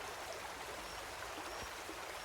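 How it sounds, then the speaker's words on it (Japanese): A rushing river stream roars steadily in a constant wash of water, with no talk over it. "川の流れはゴーゴーと荒れています"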